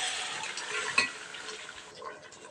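Chicken curry is stirred in a pan with onion and tomato, a soft sizzling scrape of a spoon moving through the thick mixture with a couple of sharper metallic clinks against the pan.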